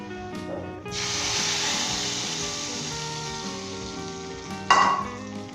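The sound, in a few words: tempering (tadka) poured into moong dal, sizzling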